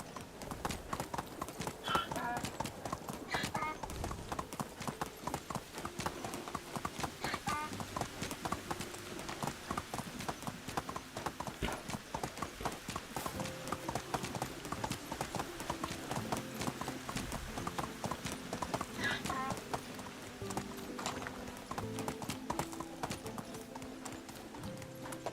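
Horse hooves clip-clop steadily as a rider travels in Medieval Dynasty, an even, close-up trotting beat running unbroken for the whole stretch, with a faint whinny and no talk.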